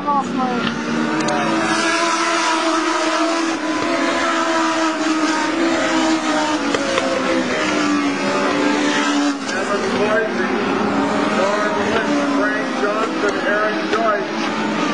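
Legends race cars roaring around a short oval track in a feature race, a continuous loud engine drone with cars passing, under steady announcer commentary.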